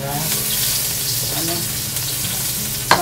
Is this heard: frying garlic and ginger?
yes